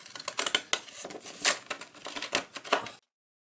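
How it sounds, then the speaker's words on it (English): Zigzag scissors cut through paper for a collage, a quick series of close, crisp snipping and crunching strokes in uneven rhythm before falling silent. "I might actually use some zigzag scissors."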